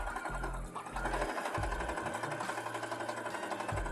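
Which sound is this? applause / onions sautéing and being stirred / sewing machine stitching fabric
sewing machine stitching fabric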